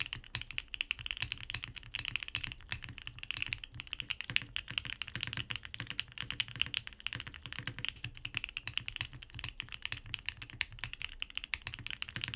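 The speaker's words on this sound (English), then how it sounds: "So let's go into everyone's favorite portion, the typing test." Steady, continuous typing on an Owlabs Vento 80 mechanical keyboard, a close, even stream of key clicks with no voices.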